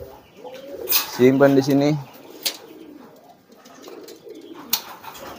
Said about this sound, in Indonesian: Ini murni jenisnya merpati kolong atau merpati tinggian